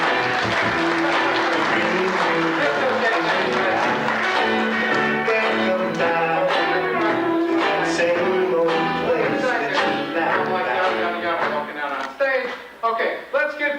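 Sustained applause from a magic show audience in Hancock, Maryland, dense and loud for over ten seconds before thinning into scattered claps at the end.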